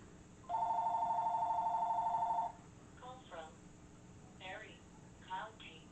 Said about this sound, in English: that's my phone, unfortunately.